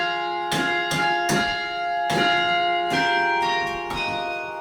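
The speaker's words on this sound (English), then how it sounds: "you might have heard bells ringing throughout campus" Church-style bells ring from the top of Pat Neff Hall on a university campus, a series of clear, resonant strikes at uneven intervals with long ringing overtones that overlap and sustain.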